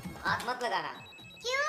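A phone rings with repeated bright electronic tones, mostly under a child's and an adult's voices talking, then rising clearer and louder at the end.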